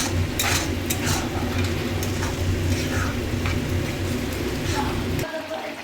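Pineapple chutney cooking down in a pan, stirred continuously: a steady bubbling sizzle with repeated light scraping and clinking of the spoon, close and fairly loud, while someone talks over it.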